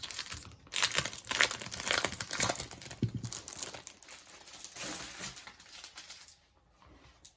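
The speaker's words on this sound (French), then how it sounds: "Et ensuite, donc le bloc de papier. Je vais aussi l'ouvrir." The wrapping on a new pad of paper is opened, giving close, crisp crinkling and rustling in irregular bursts over several seconds before it tapers off at the end.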